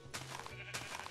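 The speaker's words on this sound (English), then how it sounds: "All right, we managed to capture a sheep." A sheep bleats in the Minecraft video game, two short, quiet bleats in quick succession with little else around them.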